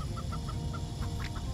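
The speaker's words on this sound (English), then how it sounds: "It's a chicken." A chicken in the physics video game Turbo Dismount clucks in a quick run of short, bright clucks over a steady low rumble of game sound, with no talking.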